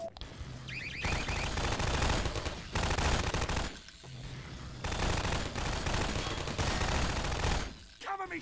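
Rapid automatic turret gunfire in the game Half-Life 2 Episode 2, loud sustained bursts of dense rattling fire separated by short pauses, with electronic beeps between bursts.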